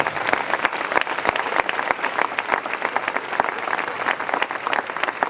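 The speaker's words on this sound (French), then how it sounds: "Acclame très fort pour le Seigneur." A church congregation applauds loudly and steadily, a dense wash of many hands clapping close by for the whole stretch, with no talk over it.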